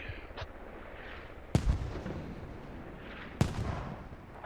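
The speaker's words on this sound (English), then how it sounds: "Now mortar is coming in." Incoming mortar rounds from the video game Squad land as two separate booming impacts about two seconds apart, heard at middling distance over a steady rumble of battlefield ambience during an esports match.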